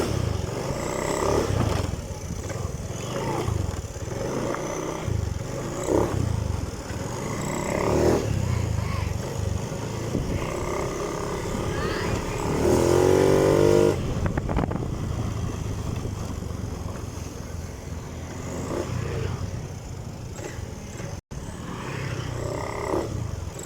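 A Honda Scoopy scooter with a sputtering engine fault rides along a main road, its engine droning continuously with rising and falling revs under wind rush and passing traffic.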